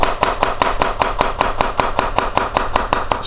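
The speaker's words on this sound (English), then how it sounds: "I'm gonna get those slices together and then cut it smaller." A knife chops vegetable slices for a vegan curry on a cutting board, about fifteen quick, evenly spaced strokes, close and crisp with nothing else audible.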